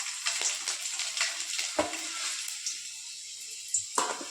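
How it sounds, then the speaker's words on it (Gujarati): Four or five garlic cloves drop into hot oil in a pan and fry with a close, steady crackling sizzle, broken by a few sharper spits and clinks. "હવે આપણું તેલ ગરમ થઈ ગયું છે। હવે એમાં 4-5 કળી લસણની નાખશું।"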